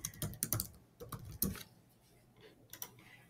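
Short bursts of clicky keystrokes on a computer keyboard as a file name is typed, quiet and close, in irregular clusters with small pauses.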